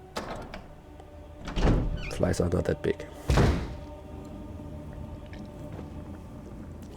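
A door in the video game Resident Evil HD Remaster opens with two heavy thunks and a sliding rumble, close and loud, while someone talks over and between them.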